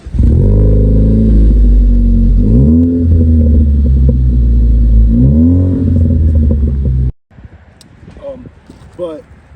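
Ford Focus ST with a MagnaFlow exhaust gives a loud, deep idle burble broken by two quick rev blips, then cuts off abruptly and a voice speaks.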